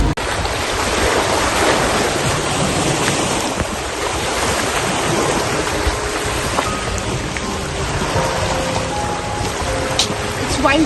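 Broad, steady surf and wind roar fills the air at White Rock beach in British Columbia, Canada, loud and continuous with no clear breaks.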